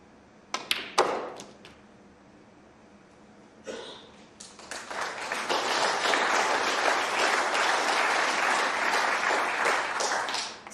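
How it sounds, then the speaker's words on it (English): Audience applause at a snooker tournament, Champion of Champions, after a big shot: a few sharp cue and ball knocks first, then a sustained round of clapping from the crowd that swells and holds strong before easing. "Generous round of applause, and why not?"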